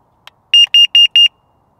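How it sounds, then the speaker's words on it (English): A small click followed by four sharp, loud electronic beeps in quick even succession from a carbon monoxide alarm being tested, piercing and close. "Now that will keep beeping if it detects carbon monoxide."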